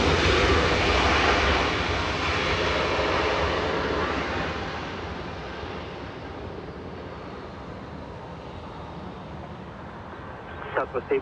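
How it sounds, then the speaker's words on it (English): Boeing Dreamliner jet arriving at Los Angeles International Airport, a broad jet roar that is loudest at first and gradually fades, ending with a few short knocks. "A Dreamliner coming in."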